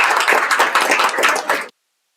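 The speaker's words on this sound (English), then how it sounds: "Keep clapping guys, come on." Audience applause at an office Independence Day celebration, a dense burst of many hands clapping close by for under two seconds before stopping abruptly.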